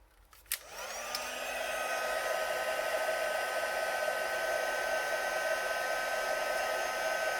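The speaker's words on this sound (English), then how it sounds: "now to set that I'm going to use my heat tool." A heat tool blasts a steady whooshing airflow while setting embossing powder, switching on with a click and then running loud and unbroken, with no talking.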